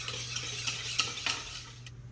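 A utensil stirs milk and oil together in a bowl, giving a few soft clinks and a swishing scrape over about two seconds against a steady background hum.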